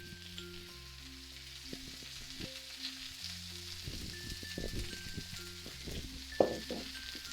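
Vegetables frying in olive oil give a soft, continuous sizzle with occasional crackles, faint under a low steady background hum.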